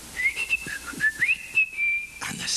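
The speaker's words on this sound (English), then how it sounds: "he picked up the magic whistle," A small whistle, the magic fadan of a told folk tale at a 1990 concert, plays a short wavering tune of sliding high notes with a few soft knocks underneath, close and fairly loud.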